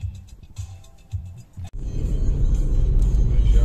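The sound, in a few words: heavy city car traffic in Łódź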